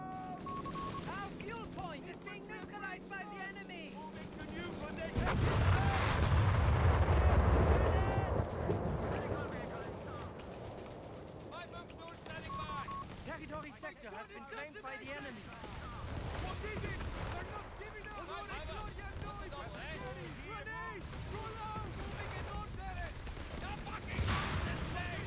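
Machine gun and battle fire in Company of Heroes 3 on the Benghazi map, dense rattling bursts and booming impacts that swell into a loud barrage, with a voice talking over the combat.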